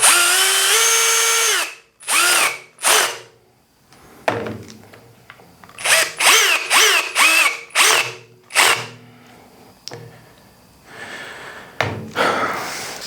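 A power driver sets screws into a helical cutterhead for a 6-inch jointer. It sounds in a series of loud, close, high whining bursts, each rising and stopping abruptly, with short quiet gaps and clunks between them.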